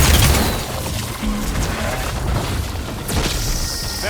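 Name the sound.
explosion in Horizon Forbidden West video game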